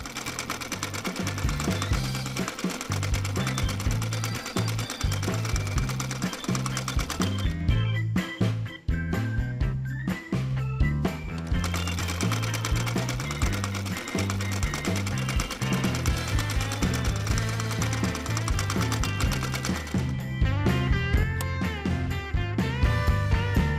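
A sewing machine stitches T-shirt fabric for a headband, running in rapid rhythmic needle clatter, close and steady, with brief pauses and restarts along the way.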